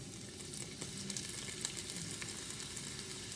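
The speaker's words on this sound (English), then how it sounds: "and you can hear it sizzling." Steady crackling sizzle of carrots and onions frying in a hot pan, continuous and close, with small pops scattered throughout and no voices.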